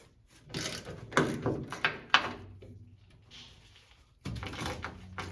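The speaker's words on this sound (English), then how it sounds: "Remove the nuts using a 12mm socket." A ratchet with a 12mm socket removes nuts on the fuel pump ECU of a 2007-2010 Toyota Tundra, giving several quick bursts of close, sharp clicking separated by short pauses, with no speech.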